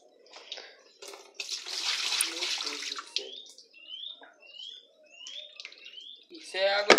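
Tap water of poor quality in Ibateguara, Brazil, runs in a brief splashing burst, then fades under scattered chirps, with voices talking nearby.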